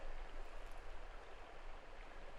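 A river runs steadily in an outdoor Western setting, a continuous broadband rush of flowing water, moderately close and even throughout with no voices.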